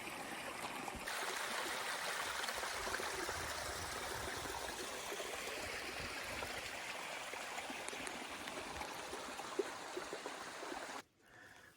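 Steady rushing water of a waterfall and stream on a multi-day hiking circuit in the Southern Ranges, loud and continuous, fading out abruptly at the end.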